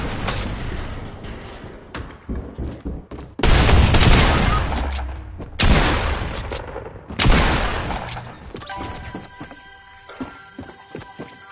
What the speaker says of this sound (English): Oh, they're coming. They're shooting me.